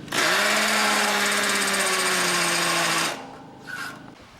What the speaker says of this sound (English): You have your masonry bit for your tap cons. Go right on through your anchor hole.